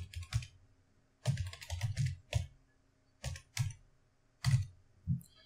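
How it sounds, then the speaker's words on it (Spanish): Someone types an email address on a computer keyboard to sign in with a Google account, quiet close keystrokes coming in short uneven bursts separated by pauses, with no talking. "Entonces escribes tu correo electrónico."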